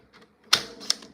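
Cardstock trimmed to size for a handmade card, giving two sharp cutting snaps close by, the first louder, with faint rustling before them and no talk.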